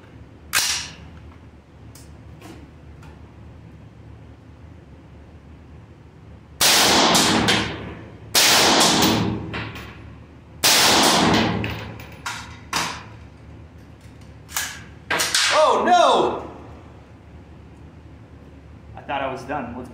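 Gunshots from a 20-inch platform strike a Steel Ops steel armor plate from 10 feet away: a quiet stretch, then about six sharp, loud cracks with a metallic ring, irregularly spaced.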